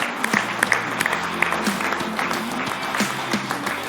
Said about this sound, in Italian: Facciamo un applauso a tutte e 2 le società.